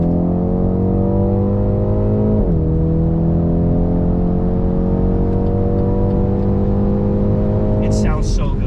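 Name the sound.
BMW X2 M35i engine note while accelerating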